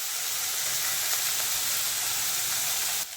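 Fresh curry leaves crackle and sizzle loudly in hot oil with onions for a Tamil ivy gourd stir-fry, a dense continuous frying hiss that drops abruptly at the end.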